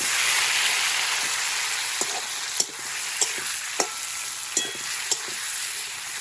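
Banana flower frying in a pan with whole cumin, dried chili and chopped onion, a steady broadband sizzle with a few sharp spatula scrapes and clacks as it is stirred, close and without talk.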